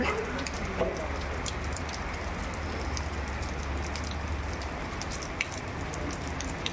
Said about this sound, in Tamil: சென்னையில் இன்றைக்கி நல்ல மழை நேற்றுலேருந்து நல்ல மழை